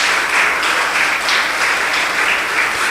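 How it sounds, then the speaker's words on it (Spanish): A church congregation breaks into loud, sustained applause, steady dense clapping filling the room without pause and with no voices over it. "¿Cuántos le dan un aplauso al Señor por esta ciudad?"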